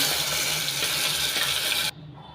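Water is poured into a pot of fish sambar with roasted onion, chilli and tempering, giving a steady close gush that stops abruptly near the end and leaves a quiet kitchen.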